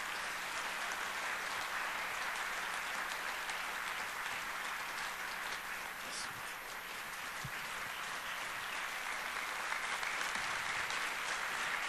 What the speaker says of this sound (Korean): 박수로 또 목사님 맞이하겠습니다